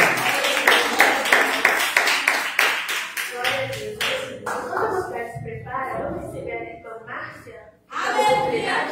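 A church congregation clapping during a Pentecostal service, with rhythmic, steady claps at first that give way to scattered taps and voices, then a final loud burst.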